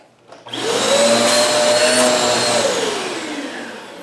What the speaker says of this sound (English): What we're going to do now is turn on the vacuum and feel for suction here.